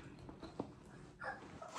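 A dog whimpers and whines softly indoors, wanting to go out, a few brief faint high cries over quiet room noise with no talk.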